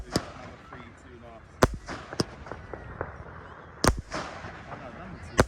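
Fireworks and firecrackers going off on Bonfire Night, with several sharp, loud bangs scattered among softer crackles and distant pops, while voices talk quietly in the background.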